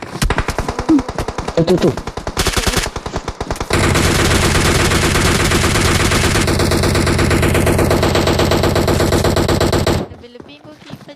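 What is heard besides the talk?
gunfire in the video game PUBG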